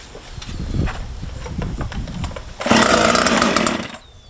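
A chainsaw with the choke on is cranked with a few rough pulls, then the engine catches and runs loudly for about a second and a half before cutting out.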